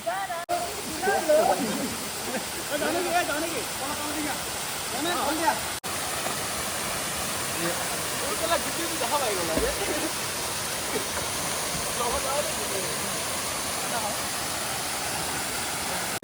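Nohkalikai Falls in Cherrapunji roars in a steady, broadband rush throughout, with a person talking over it during the first few seconds.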